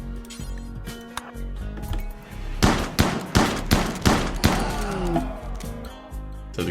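Shotgun blasts from a RimWorld cougar hunt: several sharp, loud broadband bangs cluster in the middle, spaced irregularly over a background of game music and ambience.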